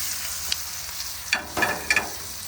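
Prime ribeye steak frying in butter on a Traeger Flatrock griddle, a steady close sizzle broken by a few sharp spatter pops and scraping stirs near the end.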